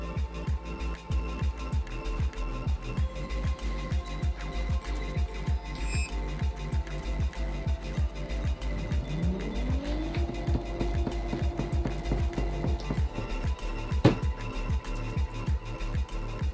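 A Onewheel GT hub motor spinning during VESC motor detection gives rapid rhythmic ticking pulses, then a rising electronic whine that sweeps upward and holds a steady tone, close and moderately loud, with a sharp click near the end.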